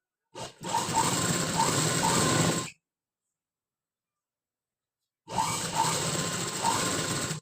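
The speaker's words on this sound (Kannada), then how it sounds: "ಇಲ್ಲಿಂದ ಇಲ್ಲಿಗೆ 1/2 ಇಂಚಿಗೆ ಸ್ಟಿಚ್ ಹಾಕೊಳ್ಳೋಣ" Sewing machine stitching the back part of a high collar neck, two steady whirring runs of about two seconds each separated by a silent pause, close and fairly loud with a faint rhythmic ticking.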